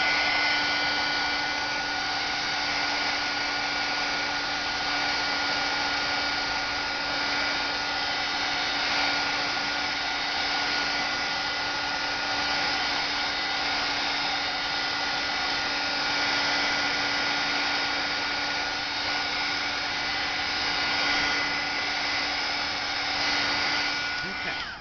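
A small heat tool whirs and hisses in one steady, close, unbroken drone, drying coffee and alcohol inks on paper, with no talking over it.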